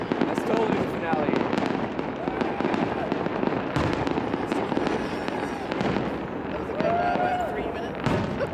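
Canada Day fireworks over Victoria, BC, a rapid series of booming bursts and crackling pops, some with whistling rises, heard from a distance with a crowd talking and cheering underneath.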